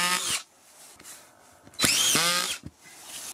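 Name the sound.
Parkside PTBSA 20-Li drywall screwdriver driving screws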